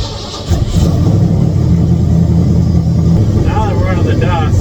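Turbocharged Ford F150 engine with a rich-running tune rises in a steady revving drone on a test drive through dust, close and loud, with a voice talking briefly over it near the end.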